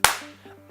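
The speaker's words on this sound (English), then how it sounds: "you immediately clap your hands." A single sharp hand clap to startle and correct a puppy during potty training, loud and close, ringing briefly in a quiet room before fading into faint background hum.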